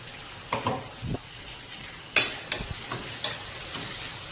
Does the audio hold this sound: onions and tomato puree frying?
yes